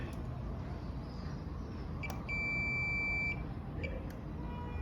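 A multimeter in diode mode gives one steady electronic beep, about a second long, over low hum and faint clicks while its probes test a car amplifier circuit board.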